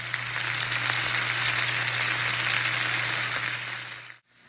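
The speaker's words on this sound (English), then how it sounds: "I'm going to let it cook for like 3 more minutes on that side." Lamb chops fry in a pan with a loud, steady sizzle and crackle up close, cutting off abruptly at the end.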